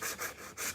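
Kitchen knife blade drawn across a sharpening stone, three close rasping strokes in quick succession, each a bright scraping hiss with short gaps between.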